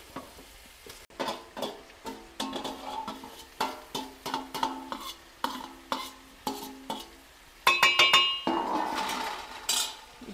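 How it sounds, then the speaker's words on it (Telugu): Pieces of fish going into a pot for a large batch of Telugu fish curry (chepala pulusu), a steady series of knocks and clatters against the metal, followed by a bright hiss of sizzling toward the end, with no voices. "ఇప్పుడైతే చాప ముక్కలు వేసేస్తున్నాం."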